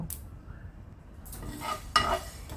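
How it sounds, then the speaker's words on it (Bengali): Spices dry-roasted and stirred in a pan for apple chutney, giving soft scraping and rustling with faint sizzle, a sharper clink of utensil against the pan near the end, no talk. "তারপর হালকা হাতে একটু ভেজে নেব মশলাটা একটু ভালো গন্ধ বেরোবে"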